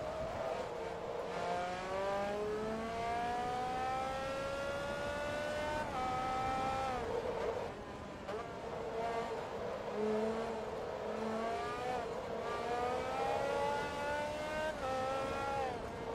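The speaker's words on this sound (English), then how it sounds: "I'm really struggling to drive this car around here." A race car in Forza Motorsport 2 screams through a Pan-European Championship race. The loud engine winds up in rising sweeps, breaks off at gear changes and climbs again without pause.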